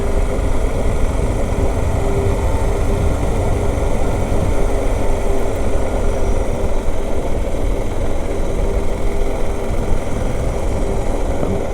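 A Suzuki DR650 dirt bike coasts along a sealed country road, its single-cylinder engine a steady low drone with wind rumble, close and continuous throughout with no talking.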